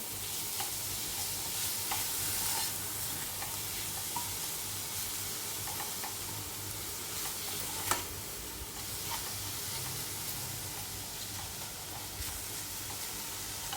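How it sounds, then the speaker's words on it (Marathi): Jaggery melts in a kadhai while making Maharashtrian coconut rice, stirred with a steady soft sizzle and scraping, plus a few faint clicks of the spoon against the pan. "हे छान प्रकारे मिक्स करून घ्यायचं."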